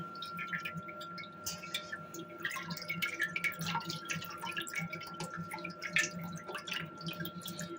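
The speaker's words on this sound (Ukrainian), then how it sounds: "перетіжу через отакий друшляк, через сито" Fruit juice dripping through a mesh sieve into a bowl, a busy patter of small close drips over a faint steady tone.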